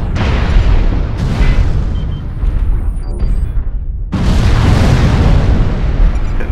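Missiles and a gauss cannon fire in the video game Mechwarrior Online as loud, booming blasts and explosive bursts. They run almost continuously, with a brief lull before another heavy surge of firing.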